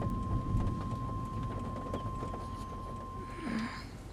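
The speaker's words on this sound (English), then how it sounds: "See, the rain is behind us." Heavy rain during a tornado makes a steady, dense roar of falling water and wind, continuous and fairly loud, with no distinct thunderclap standing out.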